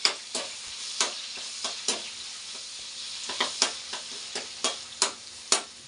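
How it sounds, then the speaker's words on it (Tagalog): Garlic and onion sautéing in a pan while pork belly is prepared for pinakbet, with a steady sizzle broken by about a dozen sharp clicks and taps of a spatula scraping the pan, near and alone. "Gigisa natin ang bawang sibuyas"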